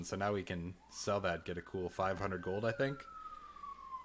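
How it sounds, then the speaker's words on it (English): An emergency vehicle siren outside wails as a long falling tone, faint and distant beneath a man's speech, then continues alone for the last second. "Please, excuse the siren."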